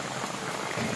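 Heavy afternoon rain falls in a dense, continuous patter, steady and close for the whole brief moment.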